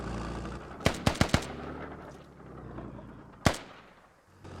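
Gunfire trading in the video game Squad: a quick burst of four sharp shots, a pause, then one louder single report, over a low ambient background.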